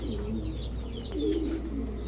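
Giribaj high-flyer pigeons coo softly in low rumbling phrases close by, with faint chirps above a steady background hum.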